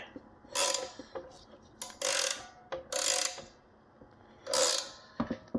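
Rear control arm bushing bolts are tightened with a ratchet, giving several bursts of rapid clicking separated by short pauses, plus a few sharp metallic clicks, fairly close and moderately quiet.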